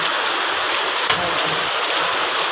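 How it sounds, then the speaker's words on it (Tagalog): Heavy typhoon rain (Typhoon Carina) pours down steadily in a dense, loud hiss, with a brief splash or thump partway through. "Ito, lakas ng ulan."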